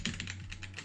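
A mechanical keyboard fitted with red switches is typed on, giving a rapid run of close, crisp clacks over a faint steady hum.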